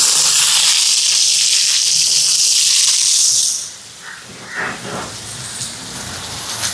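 Small shallots hit hot oil already spiced with mustard seeds, fennel and cumin, a loud close hiss that drops after a few seconds to a softer crackling sizzle with scattered pops.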